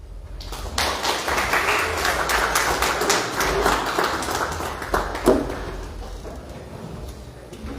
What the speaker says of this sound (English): Round of applause once again for the category of community service.